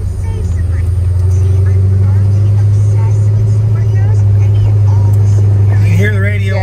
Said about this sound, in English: We're gonna get it started up. Beautiful cold start.